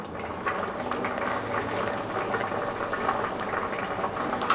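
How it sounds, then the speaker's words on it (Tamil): Rice simmering in a pot for white vegetable pulao, a steady close bubbling and gurgling of boiling water that runs without pause and stays fairly quiet, with no voices. "ரைஸும் மெதுவாக கொதிக்க ஆரம்பிச்சிருச்சு"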